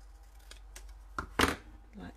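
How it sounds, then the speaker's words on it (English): A paper craft banner gets snipped with scissors: a couple of quick crisp cuts stand out near the middle, with faint handling noises before and soft talk around them. "I'm going to snip it off."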